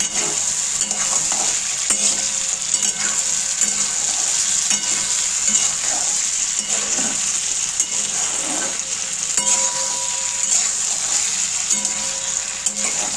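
Potatoes, flat beans, tomato, chili and peas sizzle steadily as they fry in a pan, with a spoon stirring through them; the sizzle runs continuous and close throughout, no one talking.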